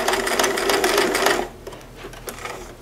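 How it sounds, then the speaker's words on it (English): A sewing machine backstitches through penguin-print fabric in a close, loud burst of rapid stitching lasting about a second and a half, then falls quiet apart from soft handling noise. "I'm gonna go ahead and backstitch."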